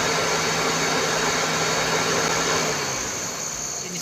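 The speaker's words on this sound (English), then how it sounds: "Fans are running." Radiator cooling fans on a Toyota RAV4 run at steady speed after a fan relay replacement for an overheating fault, a loud continuous whooshing drone that eases slightly near the end.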